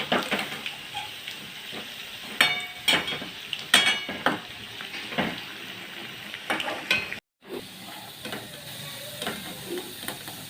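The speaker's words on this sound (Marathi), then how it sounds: "तर दुसऱ्या साईडनं पण तळून घेऊया लालसर कलर येईपर्यंत" Kothimbir vadi pieces fry in hot oil after being turned to the other side, a soft continuous sizzle broken by sharp scraping and clinking of a utensil against the pan, with a brief gap near the end.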